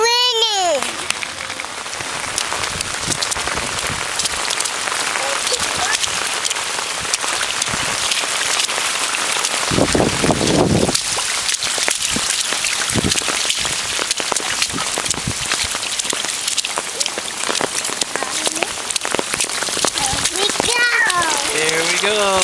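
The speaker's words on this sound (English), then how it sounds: "It's raining." Steady rain falls on a residential street, a dense even hiss of drops lasting throughout, with a voice and other voices heard intermittently over it.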